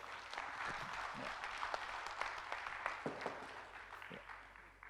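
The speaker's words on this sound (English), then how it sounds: "give again a round of applause to Pak Dwi Soetjipto" Conference audience gives a round of applause to a departing panel speaker at an industry event, dense continuous clapping filling the room for several seconds with scattered louder individual claps.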